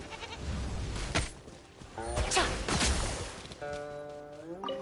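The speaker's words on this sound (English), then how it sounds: "Oh, you can fight goats!" Goats in the video game Genshin Impact bleat in a few short, wavering cries over the game's background sounds and impacts, with a longer bleat near the end.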